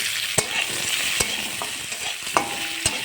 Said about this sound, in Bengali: কড়াইতে আবারও তেল দিয়ে আমি এবার কুচি রাখা কিছুটা পেঁয়াজ কড়াইতে দিয়ে দেবো।